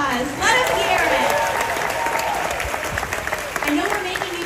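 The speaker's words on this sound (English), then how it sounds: "Let's give them another round of applause." Audience applause at the Disney's Hollywood Studios 35th anniversary ceremony, a steady wash of clapping and crowd noise lasting several seconds with tonal voices or music drifting through it.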